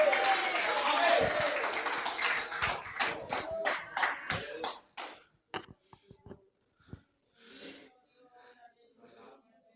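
A church congregation claps hands in praise, a dense burst of applause that thins into scattered, fading claps.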